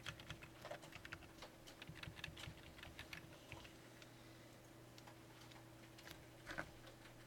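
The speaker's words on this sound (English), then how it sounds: "I still hear people typing" Several people in a lecture room type on computer keyboards, faint scattered key clicks and taps at an uneven pace over a low steady hum.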